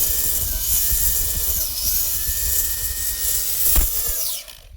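A GTM cordless string trimmer runs and cuts with a steady high-pitched whine and buzzing motor tone, close and loud, with brief pitch sweeps as the load changes, then winds down at the end.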